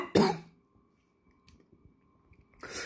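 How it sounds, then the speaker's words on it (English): A single sharp cough up close, followed by quiet clicks and faint rustling, then another short throaty burst at the end. "I am coughing because there is still food in my throat"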